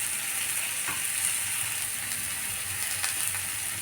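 Pointed gourd and potato frying in a pan with turmeric and chili powder, a steady close sizzle throughout, with a few faint clicks of stirring.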